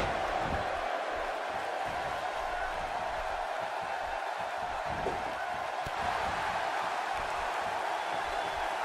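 Wrestling arena crowd at a Glendale pay-per-view event, a steady distant murmur and roar of many people with faint scattered cheers, continuous and moderately loud.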